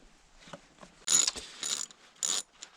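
A ratchet clicks in several loud bursts while loosening bolts on a Kubota D1403 diesel engine during a generator governor repair, each burst a quick run of metallic ticks with short pauses between.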